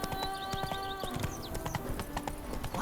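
Horse hooves clip-clopping in The Witcher video game, a quick rhythmic trot of hollow knocks set against sustained game music tones and faint chirps.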